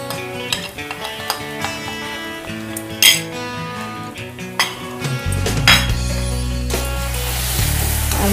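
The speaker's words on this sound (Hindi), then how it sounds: "और मसाला को थोड़ा हम अच्छा से भुनेंगे।" Masala spices for a fish curry, including turmeric and Kashmiri red chili powder, are stirred and roasted in a pan, with scattered metal clinks and scrapes of a utensil over a faint, steady sizzle.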